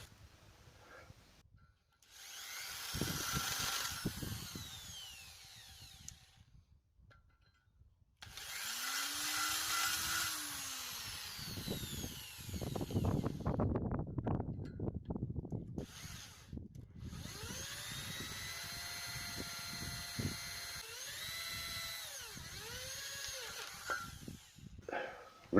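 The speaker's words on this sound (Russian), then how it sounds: "С обратной стороны керню и сверлю 3 отверстия, ближе к краю трубы 8-мм, за ним 2 по 6 мм." A power drill bores three holes, one 8 mm and two 6 mm, through a center-punched steel pipe, in several whining bursts separated by pauses, with rising and falling motor pitch and grinding bit noise, fairly close.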